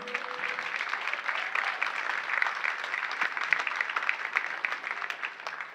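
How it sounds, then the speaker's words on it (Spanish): A church congregation claps in praise, a soft, steady patter of many hands heard at a modest distance and continuing evenly for several seconds. "denle un aplauso al Señor"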